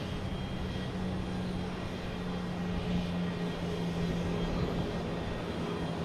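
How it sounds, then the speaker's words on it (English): A Japan Airlines jet in a special livery passes overhead near Boston Logan Airport, a steady, distant engine rumble and hum that stays fairly constant throughout. "Also have Japan Airlines flying overhead here."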